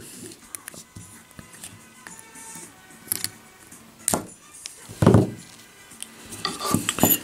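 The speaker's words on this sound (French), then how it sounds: "je coupe le fil excédentaire" Excess wire being snipped on a Billow V2.5 rebuildable atomizer, with small metallic clicks and scraping handling noises close by, a few sharper cuts standing out, under quiet spoken French.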